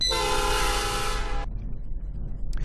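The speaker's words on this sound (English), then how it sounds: "if you want to use the horns or whistle of any vehicle" A train horn in the Traincraft mod for Minecraft blares a loud, steady, multi-tone blast for about a second and a half, then cuts off sharply, leaving a low engine rumble.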